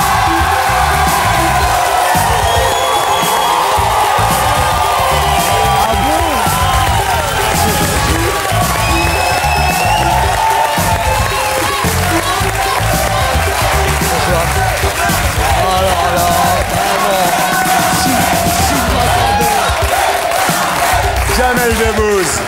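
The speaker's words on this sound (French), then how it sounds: "je comprends un petit peu ces applaudissements et cet accueil" A TV studio audience cheers, whoops and applauds loudly and without pause to welcome comedian Jamel Debbouze onto Thierry Ardisson's talk show, a dense and steady wall of crowd noise.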